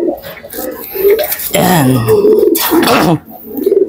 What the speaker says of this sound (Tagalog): Tapos ito yung isang ibon ko.